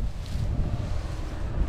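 Wind gusting across a farm where straw lies waiting to be baled, a loud, continuous low rumble buffeting the microphone with no voices.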